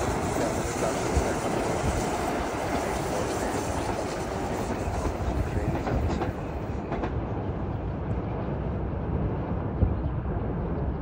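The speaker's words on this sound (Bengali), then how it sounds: "সাবওয়ে, যেটা মেট্রো রেল।" A New York City subway metro train runs with a loud, continuous rumble and rhythmic clickety-clack of wheels on rails. The high hiss fades partway through, and no voices are heard.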